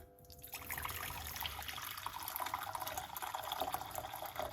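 About two cups of hot water pour steadily into a container, a continuous liquid splash with no talking.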